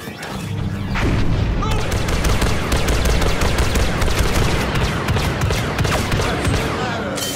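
A heavy barrage of blaster and gun fire from a Star Wars Battlefront 2 battle on Hoth erupts after a brief lull, rapid overlapping shots and booms continuing loudly and densely to the end.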